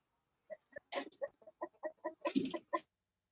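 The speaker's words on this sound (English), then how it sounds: "please don't copyright the chicken clucking" Chickens and a rooster cluck in short, rhythmic bursts at a backyard chicken coop, fairly close and moderately loud, with no talking over them.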